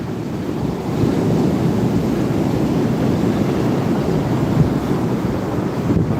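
Rough ocean surf pounding during a storm surge with 2.7-metre swells, a loud continuous wash of breaking water mixed with gusty wind buffeting the microphone, no talking.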